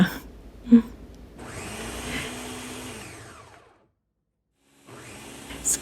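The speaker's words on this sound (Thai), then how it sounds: "แล้วก็ปั่นผสมให้เข้ากันดีจนเนื้อเนียนดีนะคะ" A kitchen blender purees a spinach sauce with syrup and apple cider vinegar, its motor whirring steadily for a couple of seconds before winding down to quiet, with a brief rustle afterward.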